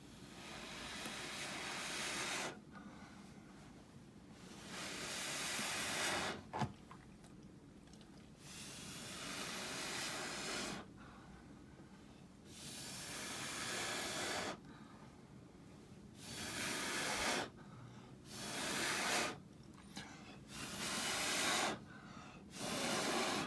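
An air sprayer blows a mix of glue, house paint and water in repeated bursts of broadband hissing, each lasting a few seconds and separated by short pauses, with low background rumble throughout.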